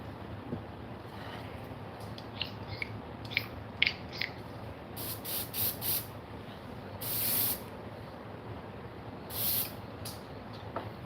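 Paint is sprayed through an airbrush nozzle onto a golden shiner fishing bait in short, light hissing bursts, three or four of them, over a low background rumble.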